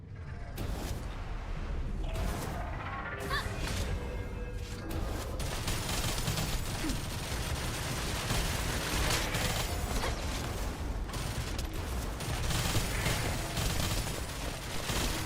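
Rapid, continuous gunfire from the looter-shooter game The First Descendant, loud and close, a dense steady stream of shots and mechanical weapon clatter running almost unbroken throughout.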